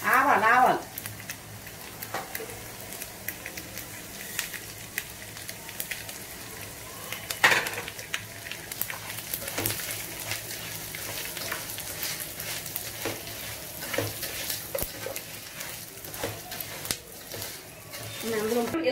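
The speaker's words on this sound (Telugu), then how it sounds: "ఇదమ్మా ఆవాలు వేస్తున్నాను చూడండి ఆవాలు" Mustard seeds fry in oil for gongura pulihora with a continuous crackling sizzle and scattered small pops. An occasional utensil clink comes through, and someone talks intermittently over the frying.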